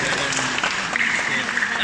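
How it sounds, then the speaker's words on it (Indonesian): Congregation applauding during a Sunday church service, a dense steady wash of clapping filling the room with voices mixed in throughout. "Berikan tepuk tangan bagi dia."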